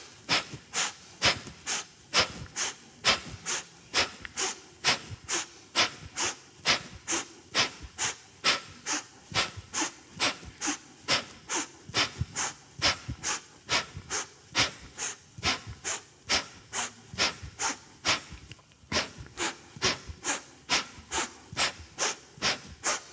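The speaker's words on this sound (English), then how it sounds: "Let's keep going for 30 more seconds with a really powerful breath." Powerful rhythmic breathing in a Kundalini yoga exercise, fast forceful breaths close up in an even pulse of about two per second, sustained for over twenty seconds with no talking.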